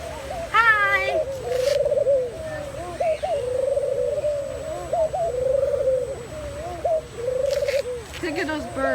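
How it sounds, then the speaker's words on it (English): Doves coo in close, repeated low phrases, one throaty call following another with short pauses, while a few higher chirps flicker in at the start and near the end. "Here are the doves right here."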